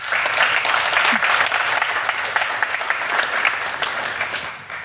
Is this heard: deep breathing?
no